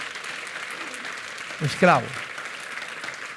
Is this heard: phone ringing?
no